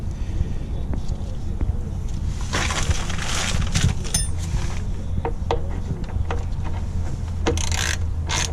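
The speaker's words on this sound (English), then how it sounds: "I just had to use a breaker bar because it's too tight to loosen." A breaker bar works a tight oil drain bolt loose under a 2014 Ram 1500 Outdoorsman 4x4: scattered metallic clinks and clunks, with one sharp snap near the middle, over steady wind rumble outdoors.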